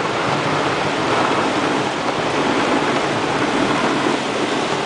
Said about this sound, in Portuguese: Chuva aqui em Goiânia.